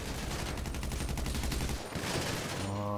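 Rapid sustained gunfire from a GTA Online shootout, dense bursts running almost continuously, briefly breaking before resuming, with a low tonal hum entering near the end.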